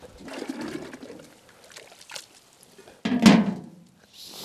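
Hot water poured over a birch bark canoe under construction, with splashing and trickling in short bursts, a quieter pause, then a louder close splash and dribble.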